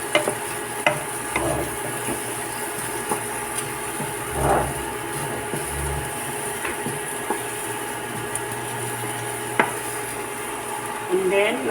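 Chopped onion cooking in a hot pan with no oil, a quiet, dry sizzle broken by occasional scraping and stirring knocks over about twelve seconds, with no talking.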